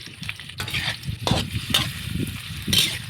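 Garlic, onion and tomato sauté in hot oil for pakbet, with a close sizzle and several scraping stir strokes spaced about a second apart. No one speaks.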